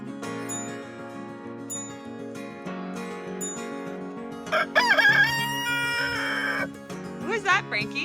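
On a farm, a rooster lets out a loud crow midway, followed by a shorter second call, while family members talk nearby and music plays softly underneath.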